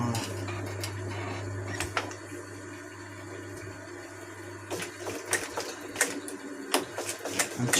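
A sewing machine runs steadily, stitching the seam of a boat cushion, with a continuous low mechanical hum and a few sharp clicks and knocks toward the end.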